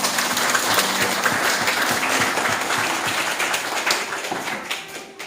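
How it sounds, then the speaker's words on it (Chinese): Guests applaud together at an Amis indigenous engagement ceremony, a steady, dense round of clapping from a crowd that holds evenly for about five seconds before easing slightly. "我们大家来鼓掌。"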